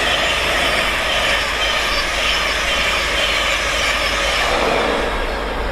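A London King's Cross-bound train led by locomotive 82222 barrels past at speed, a loud sustained roar of wheels and rushing air with rail squeal, close and continuous.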